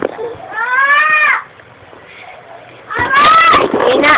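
A cat meows loudly and close in two long, drawn-out calls separated by a quiet pause.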